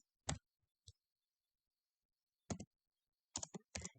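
Sparse, quiet clicks of computer keyboard keys being typed while writing C++ code, a single tap, then short clusters of two or three keystrokes separated by pauses in an otherwise silent room.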